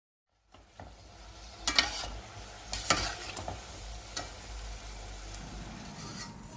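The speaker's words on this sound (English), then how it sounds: "Swirl the cutlets now and then so that they are uniformly browned on all sides and cooked well." Kerala-style beef cutlets frying in oil in a pan, with a steady sizzle and a few sharp clinks and scrapes as they are turned, heard close and alone without speech.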